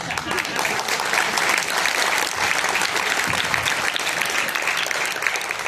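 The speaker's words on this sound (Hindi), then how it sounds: "आप लोगों ने मेरे सम्मान में जो घनघोर तालियां बजाई हैं" An audience at a comedy poetry convention in Rajgir breaks into loud, sustained applause, a dense wash of clapping from many hands that holds steady throughout.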